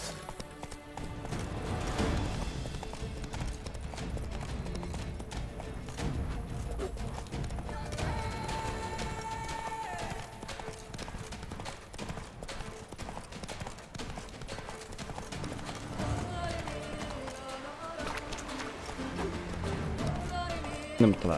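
Roach the horse gallops in The Witcher 3, steady clip-clop hoofbeats running throughout with an occasional whinny, layered under game music and voices talking.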